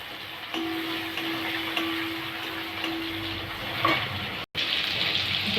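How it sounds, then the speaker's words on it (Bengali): Onions frying in hot oil that was just used for fish, giving a continuous close sizzle with brief stirring clicks. "ওই তেলের মধ্যে আমি পেঁয়াজ দিয়ে দেবো"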